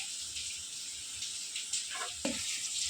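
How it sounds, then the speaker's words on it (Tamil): Onions sautéing in a pan give a steady, faint hiss of sizzling, with a couple of light stirring scrapes near the end and no voices. "இன்னும் கொஞ்சம் ஆனியன் வதங்கட்டும்."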